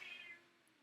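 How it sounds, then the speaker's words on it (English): A house cat wanting to go outside gives a short, faint meow at the start, fading quickly into quiet indoor room tone. "Oh, my cat wants to go outside."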